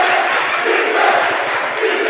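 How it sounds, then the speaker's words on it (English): Loud, sustained crowd cheering and shouting fills a high school boys basketball gym after a game-tying basket, a dense unbroken roar with no pause. "As the crowd gets back into it"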